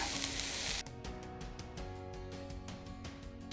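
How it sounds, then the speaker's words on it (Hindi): Finely chopped carrot hits hot oil in a pan with onions, a loud steady sizzle that flares at first and then settles into a continuous crackling fry, with no voices. "इसी स्टेज पे हम बारीक कटा हुआ लगभग 1 गाजर डाल देंगे।"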